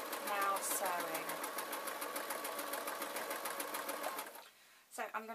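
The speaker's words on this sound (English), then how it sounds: "now sewing." A sewing machine stitches a man's tee shirt in a fast, steady, close whirring run that halts near the end, followed by a short burst of stitching.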